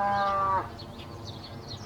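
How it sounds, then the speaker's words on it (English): A single cow lets out a drawn-out moo in a rural village setting, the low harmonic call holding for about half a second before cutting off, leaving a quiet background of soft ambient noise. "Don't you hear the cow mooing over there?"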